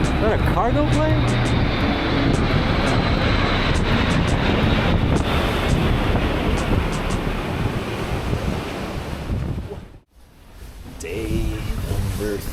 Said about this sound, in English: Is that a cargo plane?